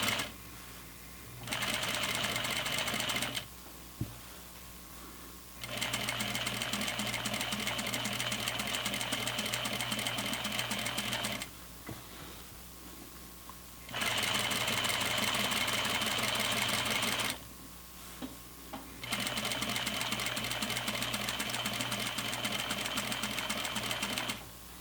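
A sewing machine runs through flannel pajama pants along existing stitch lines in several steady bursts with short pauses between, close and even, with no talking.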